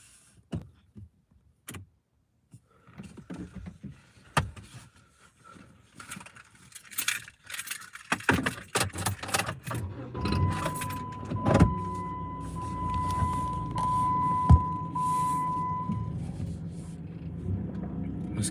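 Keys jangle inside a car, followed by the engine starting and the car pulling away toward a light at night near a cemetery; sharp clicks and rattles give way to a steady low rumble and a sustained tone, fairly close.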